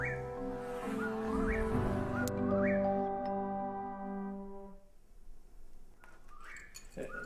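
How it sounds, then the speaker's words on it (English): A whippoorwill call is rendered as a series of clear, whistled, birdlike notes with upward-swooping phrases repeated several times. It is fairly loud and close, then trails off into quieter scattered chirps. "Now see that there? That's a whippoorwill."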